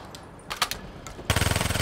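A video game gun fires a quick full-auto burst of evenly spaced loud shots after a few softer clicks and knocks, close and punchy.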